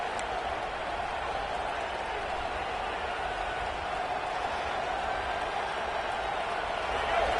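A college football video game crowd of Alabama and LSU fans roars steadily in a stadium during first and goal, a broad sustained wash of cheering and noise at moderate level throughout.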